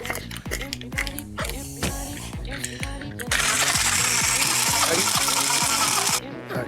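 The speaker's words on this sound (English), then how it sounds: "Put the ice in the blender." Ice cubes dropped into a blender while making a watermelon cocktail, a dense run of clattering, tumbling impacts building into a loud, continuous rattling churn.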